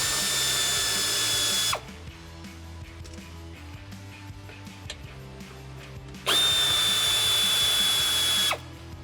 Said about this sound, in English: you'll need an 8mm socket to get that screw out